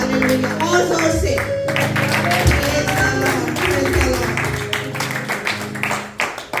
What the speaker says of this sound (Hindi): तो आज के सुने गए कलाम के लिए और खुदा के खादम के लिए जोरदार तालियां बजाएं।